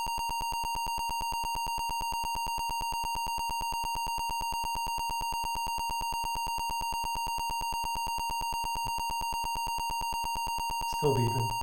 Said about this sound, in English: Wow, that's a lot of beeps.